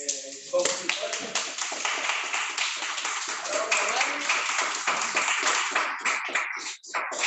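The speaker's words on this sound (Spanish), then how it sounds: "Aquí un aplauso para compositores" Audience clapping at a spiritual concert, steady sustained applause from a crowd with a voice talking over it, the clapping tapering off near the end.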